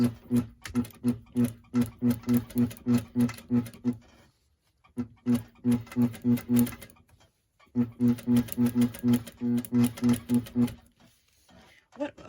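A sewing machine top-stitches a shirt placket at 2.5 stitch length, running in three rhythmic bursts of rapid mechanical clatter separated by short pauses, close and clear.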